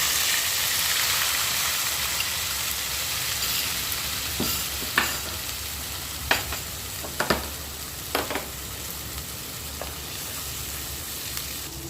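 Onion paste sizzles steadily in hot oil for a mutton kadai korma, a continuous bright hiss with a few sharp spatters and pops scattered through the second half, close and fairly loud.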